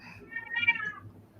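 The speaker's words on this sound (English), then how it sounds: "I got a pissed off cat over here." An angry cat lets out a single drawn-out, rising and falling meow close to the microphone in a quiet room, lasting about a second.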